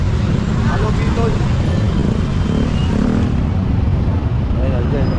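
Congested street traffic in Tondo forms a loud, continuous low rumble of cars, motorcycles and buses passing close, with faint voices under the din.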